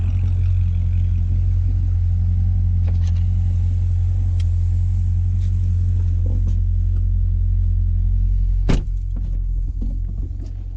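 A C6 Corvette Z06 engine idles close by with a deep, steady rumble throughout, with a few faint clicks and a brief knock near the end.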